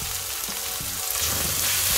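Coriander, turmeric and pepper frying in a hot wok with spring onion for Indonesian pesmol fish, giving a steady close sizzle and crackle that swells slightly louder toward the end, with no talking.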